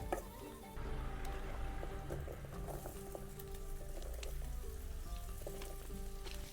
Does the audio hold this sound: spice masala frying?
yes